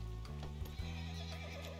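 A horse in Red Dead Redemption 2 lets out a long whinny over the clip-clop of hooves, with a low steady game tone underneath, fairly faint overall.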